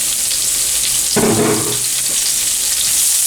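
Chopped onion and baby portobello mushrooms fry in a pan with a steady, close sizzle and a louder burst of crackling about midway, with no talking.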